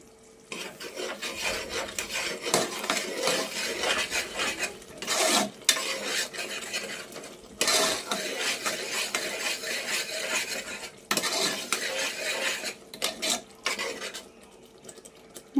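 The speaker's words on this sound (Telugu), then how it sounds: "ఇక్కడ చెక్క చెంచా తీసుకోవడం మర్చి మర్చిపోయానండి అందుకని చెప్పేసి సౌండ్ చాలా ఎక్కువ వస్తుందన్నమాట" A metal spoon scrapes and stirs green pea curry in a pan, harsh rasping strokes repeating in bursts with brief pauses, close and loud, with no talking.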